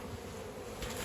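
Honeybees buzzing around a double-stacked beehive, a steady close insect drone for about a second with no voices.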